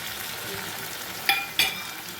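Vegetables for an eggplant and raw mango curry sizzle steadily in a hot frying pan, with two quick scraping clicks of a utensil stirring near the end.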